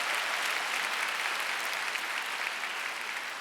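A church congregation bursts into loud, steady applause, a dense wash of clapping that holds at full strength for a few seconds without pause.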